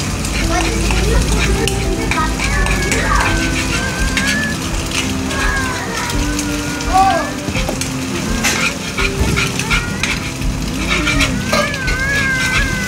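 Onion, green chili and eggs fry together in a pan with only a little oil, a steady loud sizzle running throughout with spatula scraping and stirring strokes over it.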